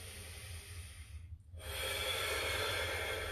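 A deep breath drawn in while holding a static stretch with a stick or pole: a steady, close, airy inhale, a brief lull, then a fuller, stronger rush of breath, with no talking.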